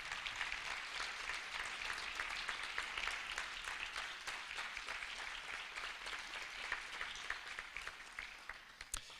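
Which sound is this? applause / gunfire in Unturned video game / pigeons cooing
applause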